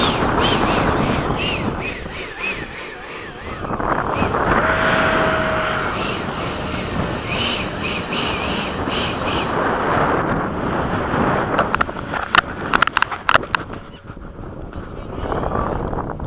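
A Freewing 90mm F-15 radio-controlled electric ducted-fan jet flies at a flying field, its loud whooshing roar rising and falling as it passes, with crackling wind buffeting near the end.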